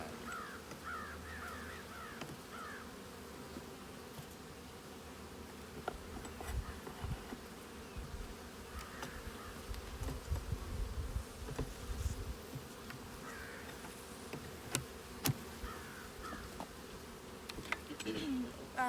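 Honey bees buzz steadily around a beehive outdoors, a faint continuous hum with occasional crow caws and light rustling in the background.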